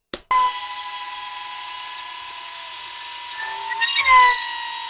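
Power sander smoothing a scrap wood serving board with 240 grit paper, a steady close motor whine after a sharp start, with a brief rising scuff near the end.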